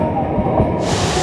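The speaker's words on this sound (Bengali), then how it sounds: "পুরুলিয়া স্টেশন থেকে 261 কিলোমিটার কভার করে আমাদের ট্রেন এসে পৌঁছালো আমাদের জনাই রোড" A Purulia to Howrah MEMU train arrives at Janai Road station, giving a loud, close, steady rumble and hiss of wheels and air brakes without any pause.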